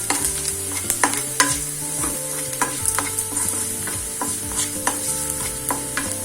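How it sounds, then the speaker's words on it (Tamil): Onions sautéing in a pan until they change colour, a close continuous sizzle broken by frequent scraping and clinking strokes of a spoon against the metal. "கலர் மாறுற வரை இப்போ நம்ம கொஞ்சம் வதக்கிக்கலாம்."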